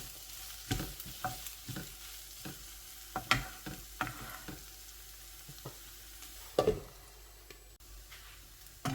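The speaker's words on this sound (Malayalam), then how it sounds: "ഉപ്പൊക്കെ ഇട്ട് നന്നായിട്ട് ഇളക്കിയിട്ട് ഒന്ന് അടച്ചു വയ്ക്കും" Sliced onions with salt fry in a pan for a tomato curry, a soft continuous sizzle broken by intermittent scraping clicks and taps as a utensil stirs, close and fairly quiet with no talking.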